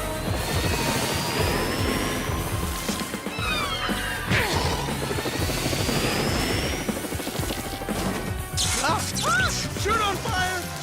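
Helicopter rotors whir steadily in a cartoon scene, a loud continuous mechanical roar with crashing effects and music layered in, while characters talk over it throughout.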